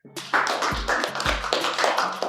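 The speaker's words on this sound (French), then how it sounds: "Acclamez pour Blessing." A classroom of students applauding for a classmate named Blessing, a short, close burst of brisk clapping with a few heavier thumps mixed in.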